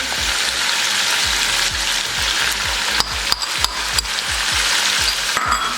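Steady crackling sizzle of korma masala spices frying in a hot pan, with rhythmic scraping taps from stirring, close and continuous, no voices.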